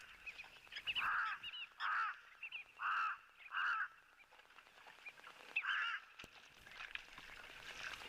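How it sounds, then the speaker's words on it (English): Harsh, nasal caws of a Cape crow repeat at a steady pace, four or five loud calls with a few softer ones, over faint background noise. "we just also got the vocals of the Cape Crow"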